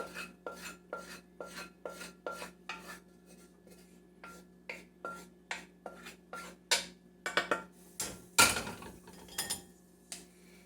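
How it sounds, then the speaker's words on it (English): Cooked wild apple pulp is pressed through a metal strainer, giving a series of sharp, close scraping and clinking strokes in an uneven rhythm that bunch together near the end, with no voices. "let's push that into the strainer and push out the good stuff."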